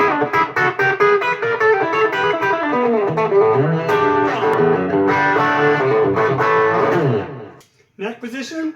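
Electric guitar played through a light drive on a modded LJ Popcaster, strummed chords and single notes ringing with mild grit, close and clear, then a short pause before a final strum.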